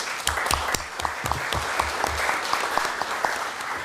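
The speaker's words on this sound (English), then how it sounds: "join me in another round of applause for our panelists" Audience applause for a panel at a forum, many hands clapping, fairly dense and steady, sharp claps standing out throughout, no speech over it.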